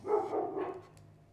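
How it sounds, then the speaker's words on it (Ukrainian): Dogs barking outside in a yard, a few muffled barks close together in the first second, then fading into quiet background. "Це вже мої собаки."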